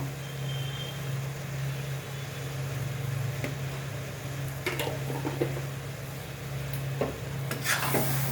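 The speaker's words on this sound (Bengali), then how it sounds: "তেঁতুলটা আমি একটু ভেজে নেব" Tamarind frying in a pan for homemade pickle, a low steady sizzle with a hum beneath and intermittent scraping strokes of stirring, close by, no voices.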